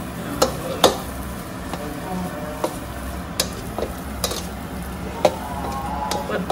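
Sweet potato halwa with grated nutmeg is sautéed in ghee in a pan: a soft, continuous sizzle broken by sharp, irregular spoon clicks and scrapes as it is stirred, with no voices.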